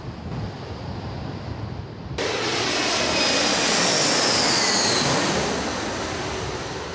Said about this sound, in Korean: 비행기 착륙을 구경하는 것도 재밌다는 색다른 경험을 했다.